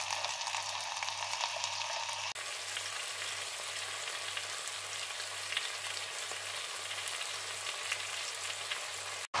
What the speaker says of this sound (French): mon lapin a bien doré sur toutes ses faces